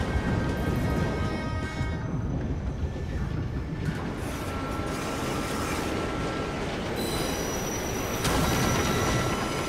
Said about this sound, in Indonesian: Dikejar kereta api.